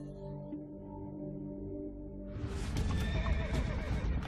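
Horses whinnying loudly, with a drawn-out neigh giving way to a burst of clattering hooves and more neighs, set under a low background tone.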